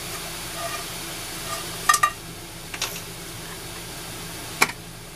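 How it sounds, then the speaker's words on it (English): A vegan butterscotch pudding mixture is stirred in a saucepan on the stove, soft scraping with a few light utensil clicks against the pan over a low steady hum. "Put this on medium-high heat and stir it constantly until it's nice and thick."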